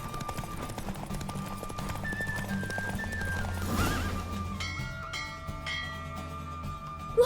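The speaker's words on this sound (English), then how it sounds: "Don't spare the horse." Hooves clip-clop at a steady gallop with horse whinnies in The Witcher 3: Wild Hunt, set against continuous game music and ambience, with a sharper rise of sound near the end.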